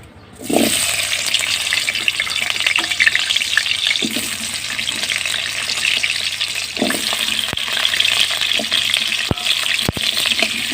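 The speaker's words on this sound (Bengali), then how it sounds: "মাংস করার জন্য আলুগুলো আগে ভেজে নেবো" Potatoes fry in oil in a pan ahead of a meat curry with cauliflower, giving a steady close-up sizzling hiss with occasional clicks of stirring, alone without talk.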